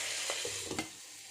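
Chicken simmers in a covered pot with a soft, steady hiss, faint and close, broken by a couple of light bubbling pops.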